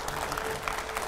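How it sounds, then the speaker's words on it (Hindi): Studio audience applause greeting a guest on a televised political talk show, a dense steady clatter of many hands filling the whole moment. "जोरदार तालियों से स्वागत कीजिए"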